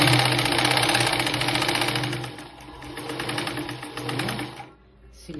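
A sewing machine stitches a blouse in a steady rapid mechanical chatter, slowing and easing in loudness before stopping near the end, with someone speaking over it.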